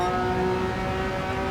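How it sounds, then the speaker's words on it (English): A Porsche race car's flat-six engine in Gran Turismo 7 during a GT2 endurance race holds a steady, close, sustained drone with strong harmonic tones, loud and continuous with no talk over it. "Porsche engine."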